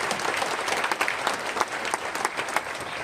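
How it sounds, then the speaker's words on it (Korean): An audience at a church book concert claps loudly and continuously, a dense crowd applause with scattered sharper claps, no voices on top. "크게 박수를 한번 주세요."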